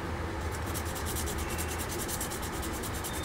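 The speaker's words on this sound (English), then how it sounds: "just do this and get that other side sanded a little bit" Sandpaper rubs steadily over the side of a model fuel dragster body in Joe Amato's Valvoline livery, a loud, close, continuous rasp with a quick back-and-forth rhythm.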